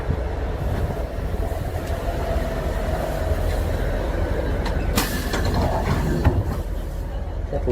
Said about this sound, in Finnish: Tää on kiskobussi.